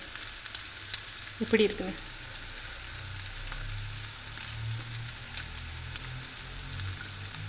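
Mutton fried rice is stirred in a large pan, giving a faint, steady sizzle with soft scraping, and a voice briefly speaks over it.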